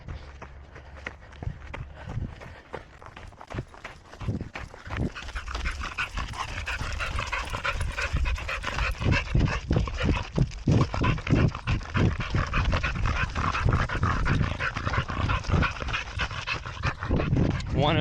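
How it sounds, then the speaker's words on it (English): A dog pants rhythmically while jogging beside its owner on an easy run, with quick close breaths over steady running footsteps and light outdoor wind; someone speaks briefly. "But today is just running with the dog."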